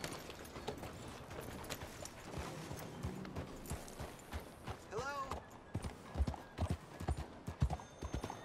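In Red Dead Redemption 2, a horse's hooves clip-clop in a steady gait, then the horse lets out a rising, wavering whinny midway, with heavier hoof thuds later and someone talking over parts of it.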